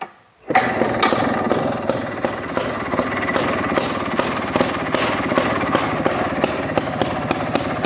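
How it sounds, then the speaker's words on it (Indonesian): A motorcycle with a TK Japan 32 carburetor starts and settles into a close, loud idle, its engine thumping in a fast, even rhythm with sharp repeated ticks throughout. "Motor ini langsamnya bisa kayak Vespa."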